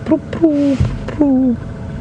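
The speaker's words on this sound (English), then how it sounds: "Lots of red-eyed doves calling, not red-eyed doves, ring-necked doves." Two soft, hooting ring-necked dove calls, each a short rising note followed by a longer drawn-out coo, heard clearly against a quiet outdoor background at a South African game reserve.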